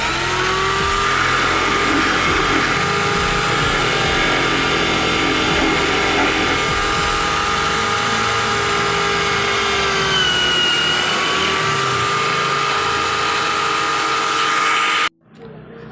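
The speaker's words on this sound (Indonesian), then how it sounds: "selanjutnya kita rapikan bagian dalamnya ini menggunakan bor" A power drill whines continuously at high speed for about fifteen seconds while boring into a coconut shell, its pitch dipping briefly under load, then cuts off abruptly.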